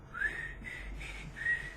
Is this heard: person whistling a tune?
yes